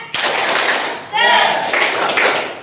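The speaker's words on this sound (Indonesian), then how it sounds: "tepuk semangat" A school class performs a rhythmic spirit clap together, a run of crisp group claps with a brief burst of patterned clapping in the middle, loud and close, with children's voices mixed in.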